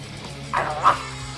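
A dog in a video game lets out two short, close vocal bursts, a whimpering yip and then a louder bark-like growl, over a low, steady game background.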